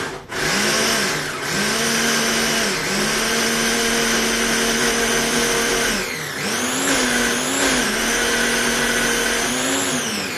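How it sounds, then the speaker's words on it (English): Kitchen blender whirring loudly and steadily as it blends ingredients for canapé spoons, a high-pitched motor whine that shifts pitch a few times, close and continuous throughout. "this blender is super high pitched and loud and really annoying"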